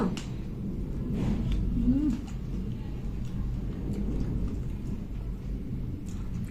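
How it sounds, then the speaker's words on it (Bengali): Thunder rolls low and heavy during rain, a dull continuous rumble that swells early and then settles into a steady drone with faint higher patter above it. "দেখো মেঘ ডাকছে মেঘে ডাকতে পাচ্ছ"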